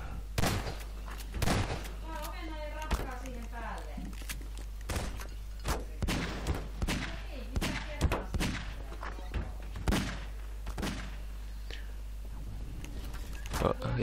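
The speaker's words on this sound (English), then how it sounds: "Oh, explosions." Explosions and gunfire-like bangs erupt during a Garry's Mod prop hunt match, a series of sharp, irregular booms and thuds spread across the stretch, with a player talking in between.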